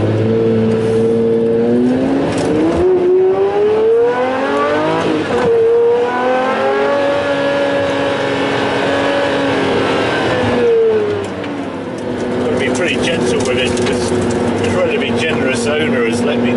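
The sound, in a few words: Pagani Zonda 760RS engine accelerating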